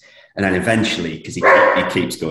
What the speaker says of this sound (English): sorry, that's my dog there.